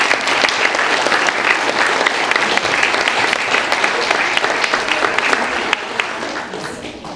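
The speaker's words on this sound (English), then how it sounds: "Would you give them an extra big round of applause?" An audience applauds community leaders with steady, dense clapping that stays strong throughout and eases slightly at the very end.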